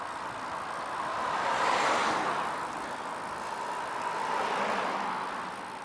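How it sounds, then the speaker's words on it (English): Cars pass by on a road at moderate distance, two swells of tire and engine noise rising and fading over steady quiet background hum. "there's still one or two cars around"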